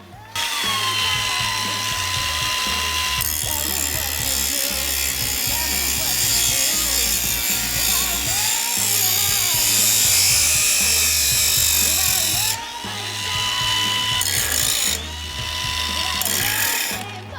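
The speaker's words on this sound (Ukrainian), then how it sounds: "давайте попробую пошліфувати метал на різних швидкостях" GRAND cordless angle grinder grinding metal at varying speeds, a loud continuous high whine that steps up and down in pitch, with brief dips and restarts near the end and no talking.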